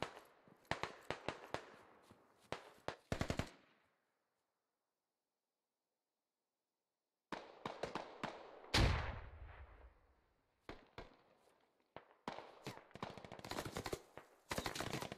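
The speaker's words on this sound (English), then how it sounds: "So many LMGs." Bursts of light machine gun fire in a tactical military shooter match on the Fools Road map, loud rapid volleys with a long silent gap midway, then more sustained firing and heavy impacts.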